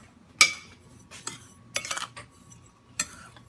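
Homemade laundry detergent mixture being stirred in a container, giving a few sharp clinks and scrapes spaced irregularly over a quiet background, fairly close and moderately loud.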